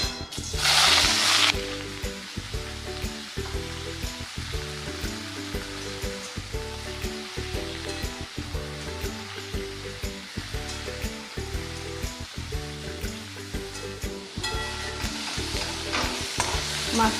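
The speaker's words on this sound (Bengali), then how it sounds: "কড়াইতে সর্ষের তেল গরম করে নিয়েছি। এবার মাশরুমটা ভেজে নেব।" Sliced mushrooms fry in hot mustard oil in a wok, giving a steady loud sizzle with stirring scrapes throughout, and a brighter burst of spitting near the start and again toward the end; no voices.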